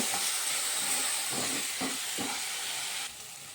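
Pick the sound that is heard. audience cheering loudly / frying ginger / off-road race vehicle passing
frying ginger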